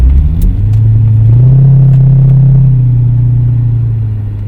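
A 1995 Dodge Stealth, just revived after years of sitting, drives past during a handling test; its engine rumbles loud and steady, rising in pitch as it accelerates, then eases away slightly toward the end.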